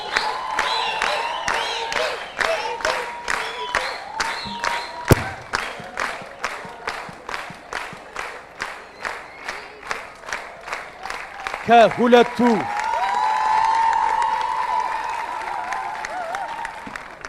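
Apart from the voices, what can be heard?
audience applause for quiz contestants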